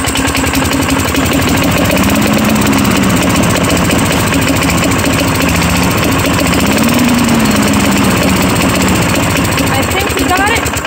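A balky lawn mower engine starts and then runs steadily, loud and close. Its rough, continuous drone wavers slightly in pitch, and voices are heard over it.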